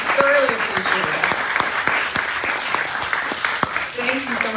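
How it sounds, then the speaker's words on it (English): Audience at a Disney Wish cruise entertainment panel discussion applauds the panelists, a steady, dense wash of clapping that carries on throughout, with brief voices and cheers mixed in. "could you all give a huge round of applause for our panelists for joining us today?"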